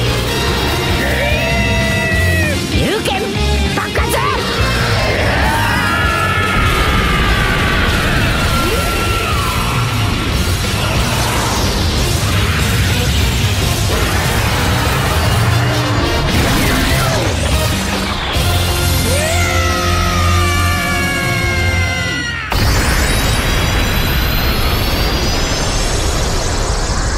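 The Dragon Fist explosion attack in Super Dragon Ball Heroes erupts as a loud, chaotic blast of roaring energy, crashes and sweeping whooshes, with yelling voices mixed in, then cuts sharply near the end before a ringing tail.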